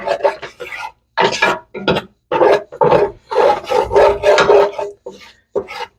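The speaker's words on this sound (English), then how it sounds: "I'm going to add some olive oil, and then I'm going to give that a scrape." Olive oil and leftover bits of meat being scraped from a pan while making a gluten-free pasta sauce, heard as a series of close, loud rasping scrapes in bursts with short pauses between them.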